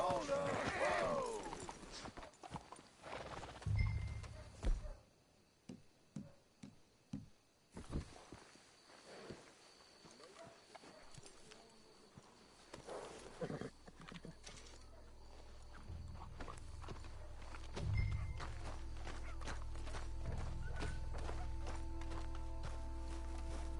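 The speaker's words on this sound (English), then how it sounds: "Let's hitch the horses up ahead." Hooves clip-clop in an irregular trotting rhythm in the Red Dead video game, shifting into muffled footsteps and rumbling ambience, with voices talking over parts of it.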